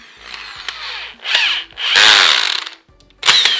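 A Black & Decker power drill with a repaired broken gear runs in loud, close bursts, spinning up and cutting off several times with short pauses between, its motor whine rising and falling.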